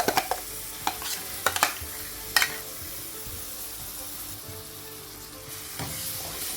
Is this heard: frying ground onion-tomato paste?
yes